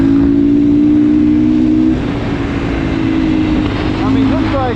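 A GPX Moto FSE300R dual sport motorcycle rides off-road, its engine droning loud and steady under wind noise, with a voice talking over it.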